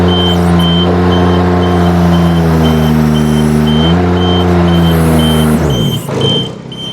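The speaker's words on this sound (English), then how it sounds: "And now we can use these to operate the boom." A Nifty SD34T 4x4 boom lift's engine runs loud and steady while the boom raises, holding a strong harmonic drone that dips in pitch partway through. Regular high reversing-style alarm beeps sound throughout, and the engine drops off near the end.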